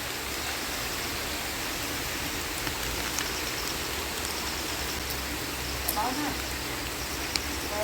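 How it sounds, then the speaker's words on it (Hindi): Heavy rain falls in a village during the rice-planting season, a dense, steady hiss of downpour that continues evenly throughout with no talk. "तुम बारिश देखो, कितनी बारिश हो रही है।"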